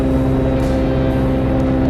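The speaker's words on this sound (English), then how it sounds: "When I started the truck up, the exhaust leak is pronounced." An idling 80 Series truck engine with a pronounced exhaust leak runs close and loud, a steady, heavy low rumble with a constant drone throughout.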